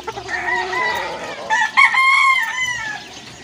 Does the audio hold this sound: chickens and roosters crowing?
yes